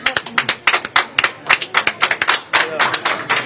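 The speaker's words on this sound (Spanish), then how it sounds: "yo quiero que hagamos un aplauso por TEA." Rhythmic group clapping in a close, loud burst of sharp hand claps. It keeps an even beat, and faint voices murmur underneath.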